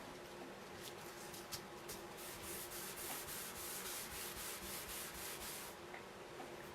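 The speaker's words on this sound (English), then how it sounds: "And I also need to wax my porch board." Wax rubbed by hand onto a 3/4-inch plywood porch board makes a soft, steady scrubbing and rubbing sound, close and quiet, with rhythmic strokes throughout.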